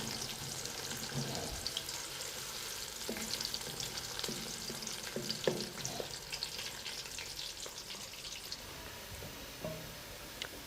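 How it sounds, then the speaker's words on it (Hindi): Onions fry in a pan with a soft, continuous sizzle, joined by quiet scrapes and clinks of stirring, low in level throughout. "प्याज को ब्राउन होने तक फ्राई करते रहें।"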